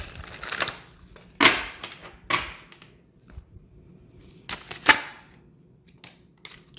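Tarot cards riffled and shuffled by hand, several quick papery bursts of flicking at irregular intervals with quiet handling sounds between, close and fairly soft.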